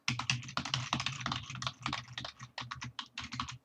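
Rapid typing on a computer keyboard while entering alphabet letters into a Java editor setting, a dense run of clicky keystrokes throughout with brief pauses, close and alone with no voice.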